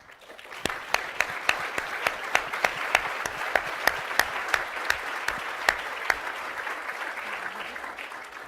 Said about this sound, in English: Thank you for that warm round of applause.